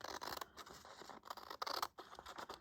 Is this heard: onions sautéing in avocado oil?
no